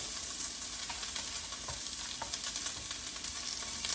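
Chopped onion sizzling steadily in smoking-hot olive oil in a pan, a dense bright crackle with scattered pops, close and fairly quiet, no voices.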